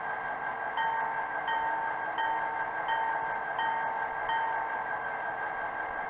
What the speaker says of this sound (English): Definitely a turbocharged engine.